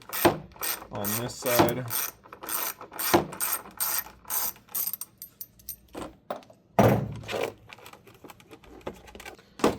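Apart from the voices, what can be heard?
ratchet removing 7mm screw from truck armrest panel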